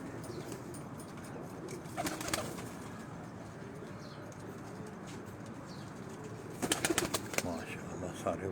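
Pigeons on a rooftop in Rawalpindi, cooing softly with bursts of wing flapping around two and seven seconds, over steady low background noise.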